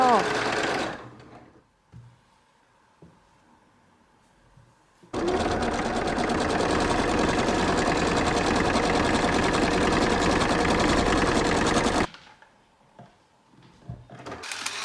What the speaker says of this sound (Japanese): 早速試し縫いしていこう